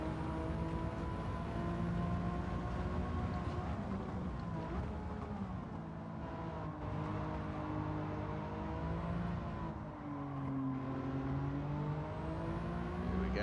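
Race car engine in the racing game Gran Turismo 7, a steady close-up drone with smooth pitch rises and dips as the throttle is eased and reapplied, running continuously with no voices.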